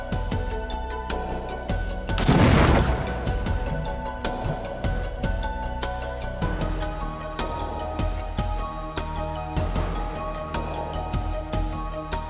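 One loud, sudden blast from a detonated explosive package during forensic investigator training, followed by lingering rumble under a backdrop of music.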